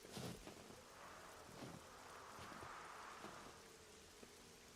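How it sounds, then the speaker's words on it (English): Steady rain in a winter biome of a survival crafting video game, a soft continuous hiss with a low rumble like distant thunder, faint and with no voices over it. "It sounds like it's raining in game"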